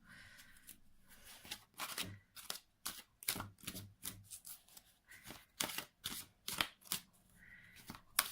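A deck of angel/oracle cards is shuffled repeatedly, with quick riffling bursts and soft taps in an irregular rhythm, close and fairly quiet.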